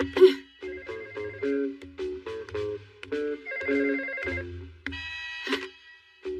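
A cartoon telephone bell rings repeatedly in a home, bright electronic trills in quick bursts with short pauses, loud and alone.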